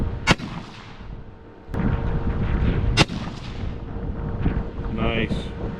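Rifle shots at target practice, .223 and .22 calibre: sharp loud cracks near 0.3 s and 3 s with a fainter one near 1.7 s, over wind noise outdoors, with a brief voice near the end.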